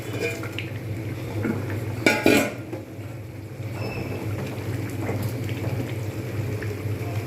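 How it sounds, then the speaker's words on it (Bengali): Fried rohu fish heads tipped into a cooking pot of muri ghonto, a short clatter and splash about two seconds in, followed by a low steady simmer. "এইবারে ঢেলে দেবো এতে মাছের মুড়োগুলো"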